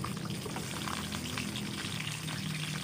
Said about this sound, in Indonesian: karena hanya untuk menggoreng bawang putih dan lomboknya